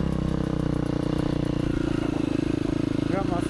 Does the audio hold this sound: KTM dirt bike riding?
yes